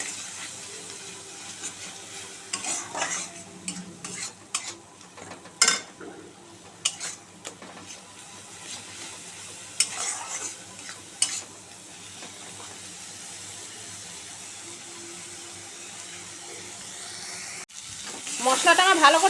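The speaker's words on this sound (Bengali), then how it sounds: "কালারের জন্য কাশ্মীরি লঙ্কার গুঁড়ো দেব, ভালো করে মশলাটাকে আগে কষিয়ে নেব।" A spice paste with Kashmiri chili powder fries softly in a pan while a utensil stirs it, giving scattered clinks and scrapes over a quiet sizzle, with louder clatter near the end.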